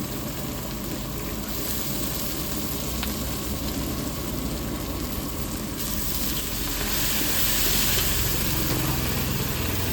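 Steady broadband sizzling of curry leaves dropped into hot oil with frying atukulu (flattened rice) at a Telangana village street-food stall, a continuous hiss that swells slightly louder partway through, with a low engine-like rumble beneath.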